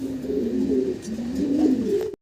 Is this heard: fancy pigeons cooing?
yes